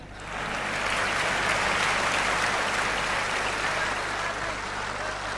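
At a mushaira poetry recital in Dubai, an audience breaks into dense, even applause that swells in quickly and holds steady and fairly close for several seconds.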